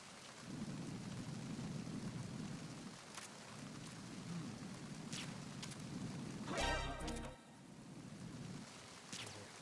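Steady rain hisses through a Metal Gear Solid 2 scene, with thunder rumbling and cracking loudly near the middle and a few sharper crackles scattered across the downpour.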